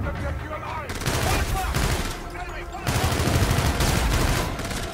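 Gunfire sprayed wildly in Call of Duty: Infinite Warfare, played on a gamepad, with dense overlapping bursts of automatic shots rolling continuously through the clip, loud and near, over a steady background of game noise.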